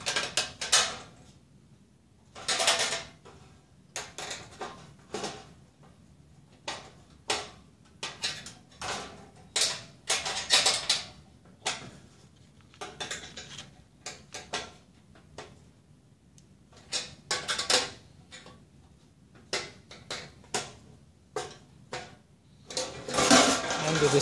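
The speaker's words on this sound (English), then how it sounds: "So once I've placed both lower hinges, I will then tighten them," Metallic clinks and rattles of a screwdriver and wrench tightening nuts on the hinges of a portable propane BBQ grill during assembly, coming in irregular bursts separated by quiet gaps, close by.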